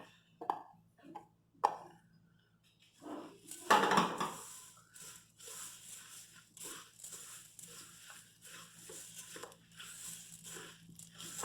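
Granola bar ingredients, including nut butter and raisins, are stirred in a bowl: a few sharp knocks, then a long stretch of scraping and clattering that stays close and steady without any talk.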